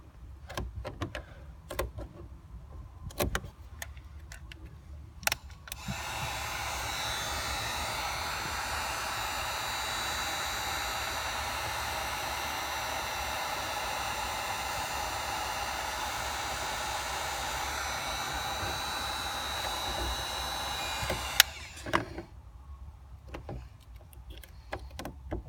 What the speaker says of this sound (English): The heat gun is extremely hot